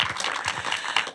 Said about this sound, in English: Can we have an applause for Michael, actually?